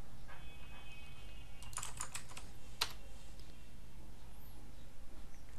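Computer keyboard typing a search keyword, a dense burst of close key clicks around the middle followed by a single sharp tap, over a steady low room hum with no talk.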